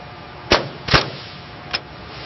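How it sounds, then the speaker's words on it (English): A pneumatic pin gun drives pins into an AMPV tank track, giving three sharp, loud bursts: two close together, then a softer third after a short pause, all over a steady background hum. "Pin gun going in."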